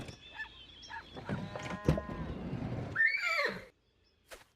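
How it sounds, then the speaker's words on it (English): A horse gives a drawn-out, wavering neigh up close, ending in a high shrill whinny before a brief pause and a faint final snort. "Horse."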